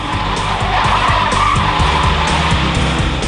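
Tyres on a Honda FR-V six-seat car skidding loudly under hard braking, a steady harsh squeal with engine rumble, close and continuous throughout.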